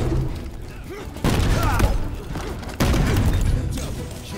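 Grenades going off in a Halo multiplayer match, two abrupt heavy blasts a second or so apart that jump the level, amid ongoing gunfire and game sounds, with a player talking over the action.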